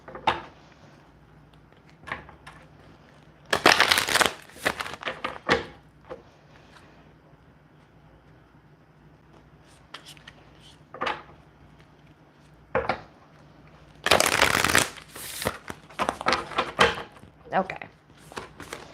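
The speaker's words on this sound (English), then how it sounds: "I'm going to shuffle those again." Tarot cards being shuffled by hand during a reading, giving two bursts of brisk riffling and flicking with scattered card taps between them, close and fairly loud, with no talking.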